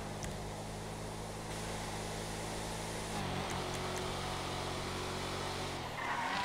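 A race car engine drones along a track in GTA 5 on a last lap, holding a steady, moderately loud tone. The pitch shifts downward midway and again near the end as gears change, with no talk over it.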